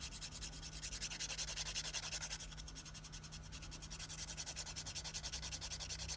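A 180 grit nail file being rubbed across fingernails to shape them, a close, steady, rhythmic rasping of quick repeated strokes.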